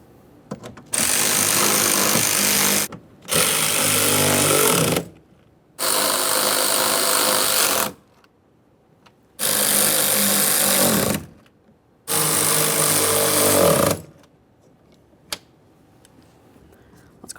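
A power tool tightening window regulator hardware inside the rear door of a 2015-2020 Ford F-150, running in five loud, roughly two-second bursts separated by short pauses, followed by a single sharp click.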